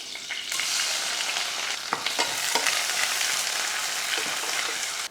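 Onion frying in oil with mustard seeds, fennel and curry leaves for a one-pot tomato rice, a steady close sizzle throughout with a few sharper crackles and pops, no talking.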